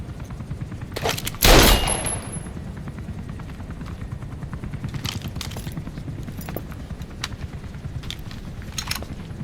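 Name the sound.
automatic gunfire in video game Metal Gear Solid V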